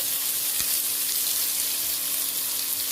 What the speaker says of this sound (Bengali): আমি গাজর দিয়ে এগুলোকে বেশ একটু নরম হবে নাড়াচাড়া করতে থাকি